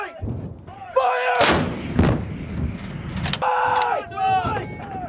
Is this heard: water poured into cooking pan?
no